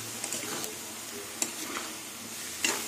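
Mustard and poppy seed paste fries in a pan with a steady, soft sizzle, broken by a few sharp stirring scrapes.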